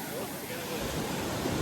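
Ocean waves break on a Cape Cod beach with dunes nearby, a broad steady wash of surf mixed with wind noise, building slightly toward the end.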